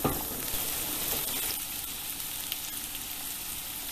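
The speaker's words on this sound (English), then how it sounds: "Add in the chopped vegetables. So just cook them for a couple of minutes" Chopped vegetables with cumin seeds cooking in a pan on medium heat, a dense, continuous sizzle heard up close, with faint stirring and no talking.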